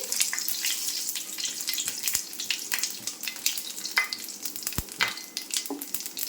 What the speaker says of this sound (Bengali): একটু জিরে দিয়ে দিচ্ছি খুব ভালো করে মিক্স করে নিচ্ছি